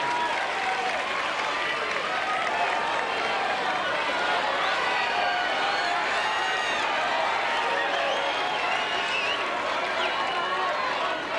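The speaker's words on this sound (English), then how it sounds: "Another roar from the crowd, and Agassi with a chance to break." Tennis crowd roaring at a 2002 Houston semifinal between Agassi and Sampras, a dense sustained wall of cheering and applause that holds steady throughout.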